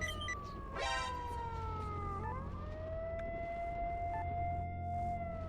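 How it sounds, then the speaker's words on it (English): A siren from a radio in a video game wails with rising and falling sweeps, fairly quiet and steady under a constant low hum, with no talking. "Oh, I think the the siren is coming out of this radio."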